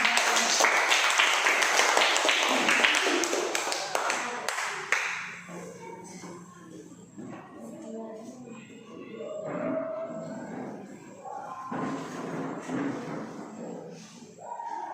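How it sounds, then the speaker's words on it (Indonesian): Hands clapping at a sixth-grade farewell class gathering: a burst of brisk group clapping for the first few seconds, tapering off, followed by murmuring voices and scattered talk. "Oke, tepuk tangan."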